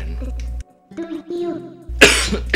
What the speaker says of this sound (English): a fit of coughing there